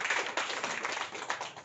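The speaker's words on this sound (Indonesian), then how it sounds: "silakan berikan tepuk tangan" Applause from an audience at a village head candidates' vision and mission presentation, a dense continuous patter of many hands clapping throughout, heard at moderate distance.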